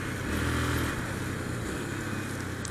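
A motorcycle engine roars steadily nearby on a road near Santana de Parnaíba, its low rumble rising and dipping slightly as the bike accelerates, with no talk over it.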